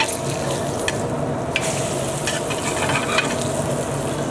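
Eggs frying on a REC TEC pellet grill griddle, a constant soft sizzle with scattered crackles and a few scraping clicks as they are moved and flipped, close and moderate in level, no speech.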